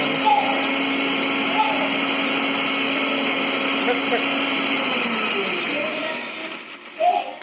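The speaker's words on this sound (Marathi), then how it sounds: "आता मी टोमॅटोचे पेस्ट ना मिक्सरमधून काढायचे" A kitchen mixer grinder blends raw tomatoes into a paste with a steady, loud, high whirring motor drone that runs without a break and winds down near the end, with someone talking over it at moments.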